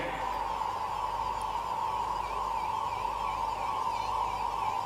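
A wailing siren from mobile veterinary vehicles rises and falls steadily over a constant loud hum, continuing throughout without a break.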